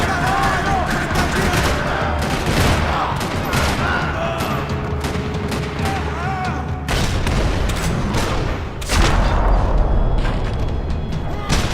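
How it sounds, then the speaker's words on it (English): Rapid bursts of automatic gunfire rattle through a parking lot in the video game Max Payne 3, dense overlapping shots over about twelve seconds with a louder burst near the end and voices under the shooting. "Another parking lot rattling with gunfire."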